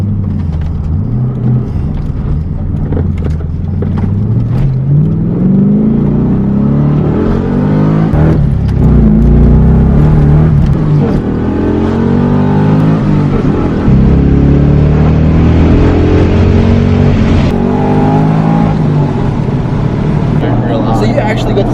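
An LS3-swapped Toyota Supra Aero Top engine accelerating hard: a loud, close, continuous roar rising in pitch through the revs, with people talking over it.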